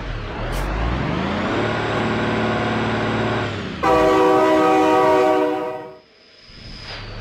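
A train rumbles past in BeamNG.drive with a loud, blaring horn that rises then cuts off, engine noise swelling and fading, synthetic-sounding like game audio.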